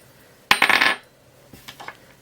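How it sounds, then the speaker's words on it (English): Dice clatter across a desk in one quick burst of rattling hits, then a few faint settling clicks follow after a pause, close and with no talking. "we'll roll this dice on my desk"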